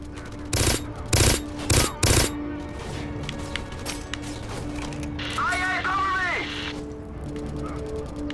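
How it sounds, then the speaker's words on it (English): Bursts of automatic gunfire in the shooter game Black, three loud clustered volleys followed by scattered shots and mechanical clatter, with a voice talking over parts of it. "Who the heck's shooting at me?"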